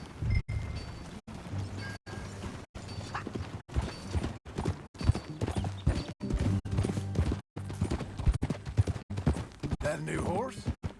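Horse hooves clip-clopping steadily at a walk in the Red Dead Redemption 2 video game, a regular rhythm of close, crisp hoof strikes with people talking over them throughout.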